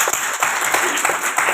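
An audience at a stage-speaking session breaks into steady, dense applause, a close and continuous wash of many hands clapping that holds for the whole moment.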